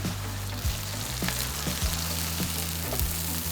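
Chicken stir-fried in a wok outdoors at a street stall, a loud steady sizzle and roar with periodic metallic scrapes of the spatula against the wok.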